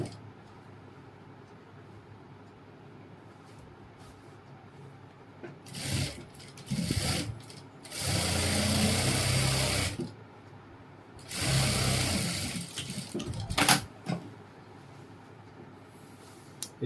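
A sewing machine stitches the front seam of a pair of ladies' pants in short close bursts, each lasting a second or two, with quiet pauses between runs.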